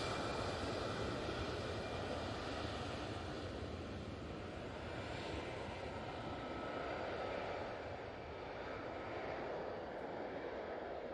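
Airliner engines on departure for Palma at Manchester Airport, a steady broad roar that holds at a constant level, heard from a distance with no talk.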